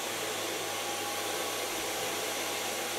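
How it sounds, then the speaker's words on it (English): A Kione blow dryer runs steadily while drying hair at the crown during a silver-gray pixie haircut, a loud continuous whooshing hum with no break and no talking. "Take my Kione blow dryer."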